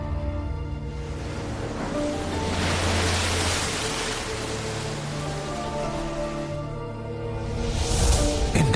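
Sea waves washing onto a seashore, a continuous, loud surf roar that swells and recedes, with no voices.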